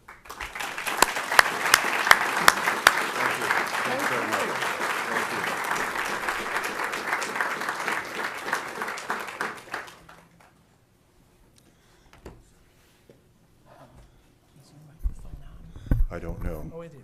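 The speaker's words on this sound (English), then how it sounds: "please welcome Jim Johnson with a warm round of applause for his lecture here tonight" Warm, steady applause from a lecture audience greeting speaker Jim Johnson, loud and even for about ten seconds before cutting off into near silence, with faint shuffling and a brief return of noise at the end.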